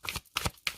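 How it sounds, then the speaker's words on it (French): Three quick papery slides and flicks of tarot cards being drawn and handled from a deck, close and soft, each lasting a fraction of a second. "Allez, on prend une autre carte."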